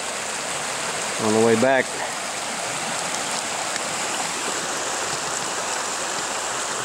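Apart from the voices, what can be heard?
small creek stream flowing water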